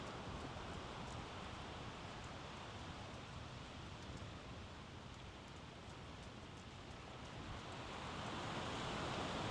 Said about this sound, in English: I hear the sound of waves,